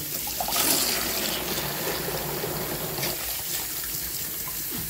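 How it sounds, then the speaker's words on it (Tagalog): Water poured into an old Dove bottle, a steady close gurgling and splashing stream that runs continuously with a brief louder gush near the start, no voices over it. "So lagyan ko ng tubig."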